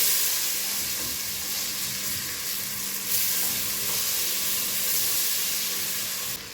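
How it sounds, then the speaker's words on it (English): Chopped garlic and onion sizzle in a hot pan, producing a dense, steady, close hiss with faint stirring, and no voices over it. "Then now we shall add in the chopped garlic, then the onion."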